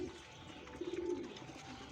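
Pigeons give a soft, low cooing, a brief throaty warble in the middle against a quiet background hum.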